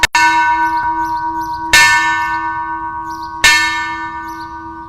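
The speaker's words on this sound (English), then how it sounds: "We will now toll the bell 4 times in memory of these men." A church-type bell tolls at a police memorial service honoring fallen officers, struck three times at slow, even intervals of under two seconds, each loud stroke ringing out and fading into the next, with no talk.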